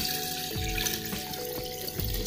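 Hot water poured into a container in a home kitchen on a winter day, a steady close splashing flow with small surges, alone, while frying hisses faintly in the background.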